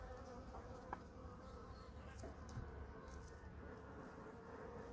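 Honey bees buzzing in a dense, continuous drone at an open hive frame holding honey and pollen, with a few louder bees passing close by and no talk.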